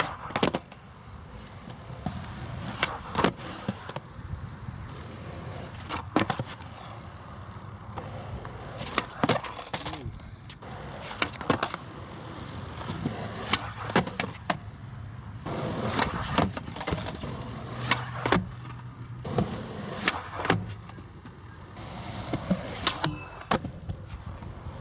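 Wheels of a skateboard roll and rumble while it is ridden for tricks, punctuated by repeated sharp clacks and board slaps at irregular intervals, fairly close, with no talking.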